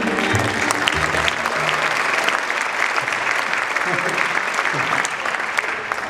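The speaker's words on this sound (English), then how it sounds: "let's have a nice round of applause for the Invisible Lady" An audience at a magic show applauds: dense, steady clapping from a full crowd that carries on throughout and fades slightly toward the end.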